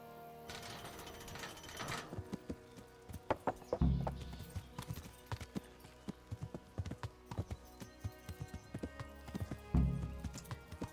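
Horse hooves clip-clop in the Kingdom Come: Deliverance video game, a run of sharp, fairly close hoof strikes in uneven rhythm with a few heavier thuds. No voices are heard.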